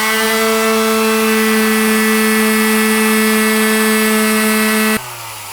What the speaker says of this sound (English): I'm going to scratch up the surface using an orbital sander